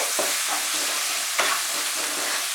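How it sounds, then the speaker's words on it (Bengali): Chopped onion frying on medium heat in a pan, a dense continuous sizzle up close with a couple of brief stirring scrapes, no voices. "পেঁয়াজটাকে মাঝারি আঁচে ফ্রাই করতে হবে"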